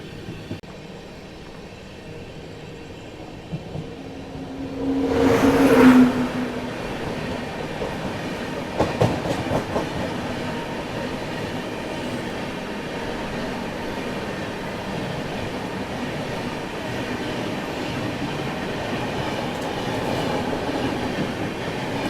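The Bhubaneswar Tejas Rajdhani, an Indian passenger train, accelerates past on an adjacent track, heard from inside the moving Mahabodhi Express as a steady rumble with clickety-clack wheel beats and a brief louder whoosh.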